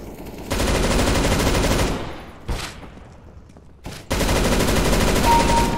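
Bursts of rapid, loud automatic gunfire in the video game CS:GO, with a pause and a couple of single shots between the sustained volleys.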